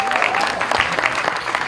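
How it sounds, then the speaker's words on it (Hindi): A live audience claps loudly and steadily at a Border 2 film event, a dense, continuous burst of applause with a few cheers mixed in. "इसके लिए एक बार जोरदार ताली होनी चाहिए"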